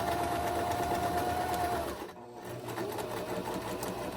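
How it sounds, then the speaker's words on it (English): Sewing machine stitching patchwork fabric for a Christmas bow, a steady close mechanical whir that briefly pauses at a pivot before running on again, with no talk. "at 1/4 inch, sew up the rest of the side"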